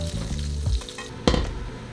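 Fish frying in hot oil in a wok, with a steady close sizzle and crackle and a sharper spatter burst partway through, loud and continuous, with no talking.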